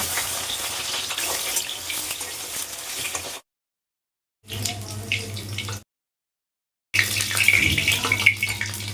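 Pointed gourd (potol) pieces frying in hot oil, a dense, crackling sizzle heard in three separate stretches with brief silences between them, close and loud.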